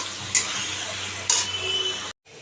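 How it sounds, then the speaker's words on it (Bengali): Cumin, coriander, turmeric and salt sautéing in a pan for paneer curry. A steady, close sizzle carries through, broken by two brief scraping stirs before it cuts off abruptly. "এবার এটাকে একটু ভালো করে কষাবো কষিয়ে জল দিয়ে একটু ফুটলেই পনিরগুলো দিয়ে দেবো"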